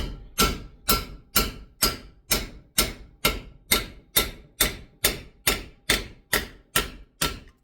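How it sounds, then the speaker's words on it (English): A hammer striking a punch to knock out plugs on a Mopar 5.9 Magnum engine, about fifteen loud, close, evenly spaced metallic blows in a steady rhythm. "So when you go to knock these out, I just take a punch."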